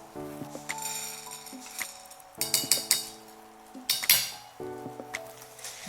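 Chickpeas frying in hot oil in a pan are stirred with a utensil, giving light scraping clinks and a few sharp metallic taps over a low steady sizzle, with no talk.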